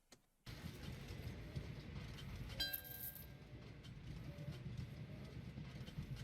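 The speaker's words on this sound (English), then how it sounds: "I'm going to send another passenger train down here for power." A passenger train runs in the Train Valley 2 video game, a faint, steady rumbling hum that starts abruptly, with a brief bright chime partway through and no talk.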